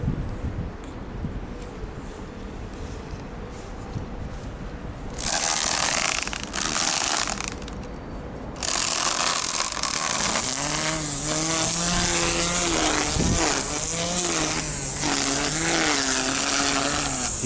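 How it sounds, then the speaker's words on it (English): A lawnmower running outdoors on a cleared area near a cinema in Ljubljana, loud and close with a steady engine drone and broad whirring that rises sharply partway through, wavering in pitch as it works, with no talk. "Oh, the lawnmower is back."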